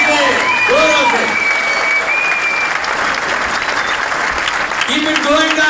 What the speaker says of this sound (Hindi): पुरजोर तालियों की गड़गड़ाहट चालू रखे जोरों से जोरों से.